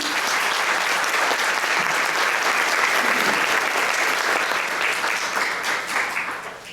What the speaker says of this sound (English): Can I ask you to give them a round of applause, please?